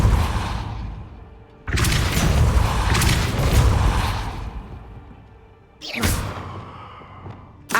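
The Depulso spell is cast in Hogwarts Legacy: two loud whooshing blasts, the first a long booming burst lasting several seconds, the second shorter near the end, with no talk.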